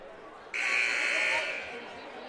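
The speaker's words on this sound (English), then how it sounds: "And there's the second buzzer." A loud, harsh buzzer blares for about a second at a college basketball game, Fontbonne University against Webster University, cutting over gym crowd chatter and announcer talk before fading.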